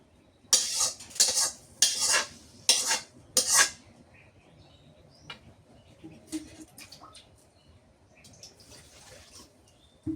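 Gourd greens are stir-fried in a pan, opening with four loud bursts of scraping and sizzling from spatula strokes, then settling into softer clinks and faint frying, with no speech.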